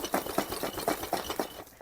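A returned parcel holding a broken ceramic chicken is shaken, loose shards rattling and clattering in quick rhythmic bursts, close and fairly loud with no voices.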